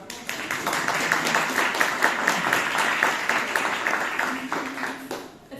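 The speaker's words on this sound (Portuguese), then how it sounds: "Dê uma salva de palmas já agora" Steady applause from a church congregation welcoming a newly introduced pastor, a dense, even clatter of many hands sustained throughout before fading at the very end.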